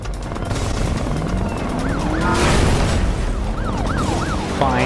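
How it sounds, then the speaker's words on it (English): Helicopter in the racing game Need for Speed: Rivals, a steady rotor drone mixed with wailing police sirens that rise and fall in repeated sweeps, loud and continuous throughout. "I can't see with this stupid helicopter blocking my view."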